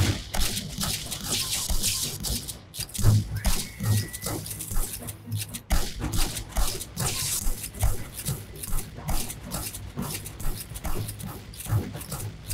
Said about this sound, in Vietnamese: Mấy con cún này.